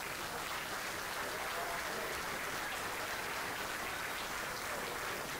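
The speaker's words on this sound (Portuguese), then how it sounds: "Eu queria pedir mais uma grande salva de palmas para o nosso amigo Paulo Botelho." A large audience at a cantoria tribute to singers and players of the US East Coast claps in steady, dense applause that fills the whole stretch at an even level.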